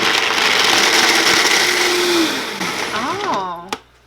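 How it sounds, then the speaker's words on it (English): A kitchen blender whirs loudly and steadily while puréeing sauce for an eggplant lasagna, its motor pitch sliding downward as it winds down, followed by a brief clunk and quiet. "Let's take this over to the blender."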